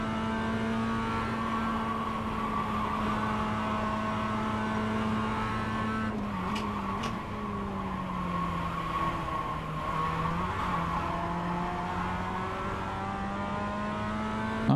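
A race car engine drones loudly and continuously through a lap, holding a steady high pitch with brief dips and pitch sweeps as it lifts and gets back on the power, with no talk.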